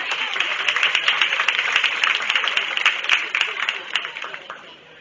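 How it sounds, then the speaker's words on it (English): A crowd at a county fair goat show claps steadily, a dense wash of applause lasting several seconds before tapering off near the end, with no voices standing out. "Let's give him a nice round of applause as they head out."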